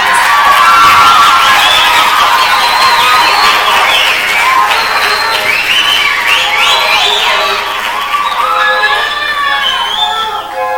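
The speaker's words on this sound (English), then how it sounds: "Let's welcome them with a big round of applause." A crowd at a 1989 Tularosa Rose Festival pageant cheers, whoops and claps for the contestants, loud and sustained throughout, with excited high-pitched shouts rising and falling over the roar.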